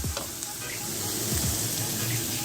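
Aromatics sizzle in a pot as they cook down for Jamaican steam fish, with a spoon stirring through them. The frying hiss stays dense and constant, with a few scraping stirs near the start.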